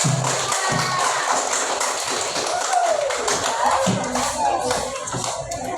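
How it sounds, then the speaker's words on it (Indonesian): A classroom claps for a class captain candidate, a loose patter of many small hands mixed with chatter and shuffling, fairly close and continuous throughout. "tepuk tangan untuk calon nomor 2"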